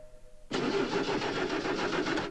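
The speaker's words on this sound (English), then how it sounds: "Can't get your car to turn over?" A car engine cranks over and over without catching: a loud, steady, rhythmic churning of the starter that begins abruptly after a brief quiet moment and continues unbroken to the end.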